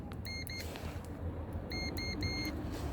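Quiet electronic beeping from the reversing sensor of a 2008 Ford Focus Zetec, two short clusters of repeated high tones over a low engine rumble.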